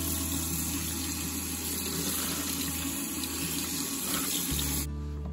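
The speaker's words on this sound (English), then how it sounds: "All right, we're just gonna rinse these off." Berries being rinsed under a running kitchen tap, a steady continuous splash of water into a sink that cuts off abruptly near the end, with no talking.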